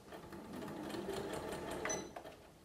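A sewing machine stitches fabric seams for a table mat, a steady close whirring hum of rapid needle strokes running for a couple of seconds before easing off.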